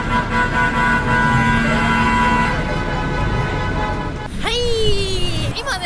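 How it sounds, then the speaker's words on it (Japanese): A bus-clogged traffic jam on a Bishkek street, Kyrgyzstan, rumbles close by with a long steady horn tone and engine drone, then a sharp falling blast of another horn near the end. "なんかすごいバスの大渋滞みたいなのが起きてます。"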